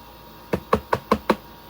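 A cartoon door is knocked five times in an even, quick rhythm, each knock crisp and fairly close against a quiet background.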